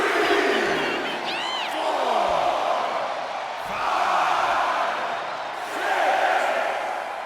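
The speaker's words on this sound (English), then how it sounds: "This capacity crowd is sending him love, and he's sending it right back." A capacity wrestling crowd roars and cheers in swelling waves, loud and dense, with whistles and whoops rising above the sustained din.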